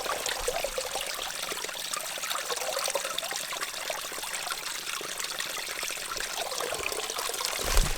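Water trickles and dribbles steadily through a hiking water filter on the Taconic Crest Trail, a close, continuous splashing stream with no voices.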